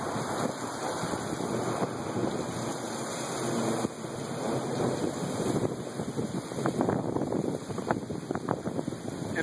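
Heavy, steady roar of a torrential rainstorm, loud and close, with gusty wind buffeting the microphone throughout and no voices.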